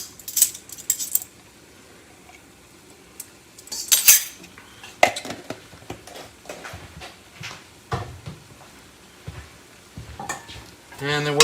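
Red bell pepper, garlic and onions sauté in a pan, a low sizzle broken by sharp metallic clinks and scrapes of a utensil against the pan at irregular intervals.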